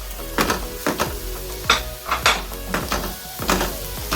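Spices being stirred in a pan for simple chicken pastil, a series of sharp spoon scrapes and clanks against the metal over a faint sizzle, close and evenly spaced with no talking.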